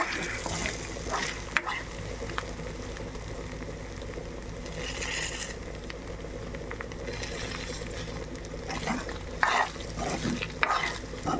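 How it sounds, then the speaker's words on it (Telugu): Pieces of beef frying in hot oil in a pan while being stirred now and then, a steady close sizzle throughout with occasional scraping of the spoon through the meat. "మధ్య మధ్యలో కలుపుకుంటూ వేపుకోవాలి"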